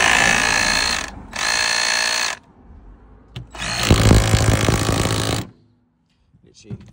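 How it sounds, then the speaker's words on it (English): A loud hammer drill driving a powerflush agitator on a heating system runs in several bursts, hammering and buzzing, with short pauses between them and a quieter gap near the end. "Put it on your hammer drill, make sure that it's set to hammer."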